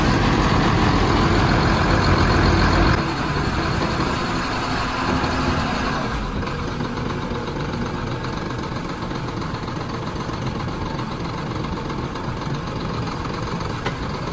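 A borewell drilling rig truck engine idling close by, a loud steady diesel rumble that drops slightly in level after a few seconds and then chugs on evenly, with no talking.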